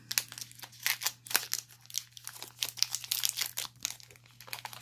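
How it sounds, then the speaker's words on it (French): A Pokémon card booster pack wrapper is crinkled and torn open up close, in bursts of sharp plastic crackling and tearing with brief pauses between them. "on s'ouvre le deuxième booster. Il veut bien s'ouvrir."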